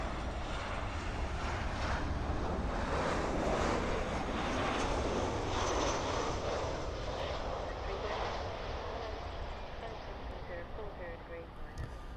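A fixed-wing aircraft roars steadily near Birmingham Airport, a broad engine rumble with wind noise that fades slightly toward the end, while a person talks over it.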